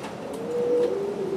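A racing pigeon gives a short, low, soft cooing call, one sustained hum-like note that sits just under a faint background rumble.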